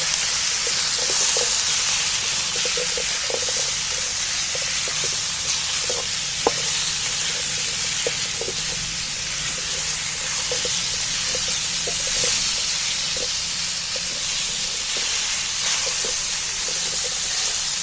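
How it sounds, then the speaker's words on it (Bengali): Chicken pieces with turmeric stir-fry in a hot pan, giving a steady, even sizzle throughout, broken by light intermittent scrapes and clicks of stirring. "এবার আমি একটু হলদি দিয়ে দিচ্ছি এইবার সবগুলোকে আমি একসাথে নাড়াচাড়া করে"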